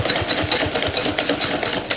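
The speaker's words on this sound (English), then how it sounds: "Now, I want to whisk the egg yolks and sugar." Egg yolks and sugar whisked by hand in a bowl, a fast, steady, rhythmic beating of the whisk, close and fairly loud with no one talking.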